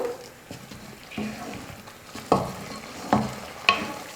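Thickening carrot halwa gets stirred in a pan with a spoon, giving soft scraping strokes and a few sharper clacks against the metal over a faint sizzle, close and fairly quiet.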